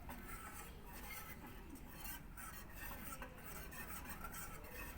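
Cassava and rice flour batter stirred with water in a bowl, a steady soft scraping and swishing that runs continuously for the whole stretch at low volume, with no voices.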